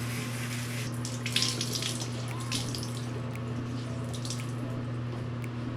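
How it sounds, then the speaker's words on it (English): Water runs steadily from a bathroom tap while someone splashes and wets their face, close by, with drips and splashes over a constant low hum and no talking. "I like to wet my face before I start."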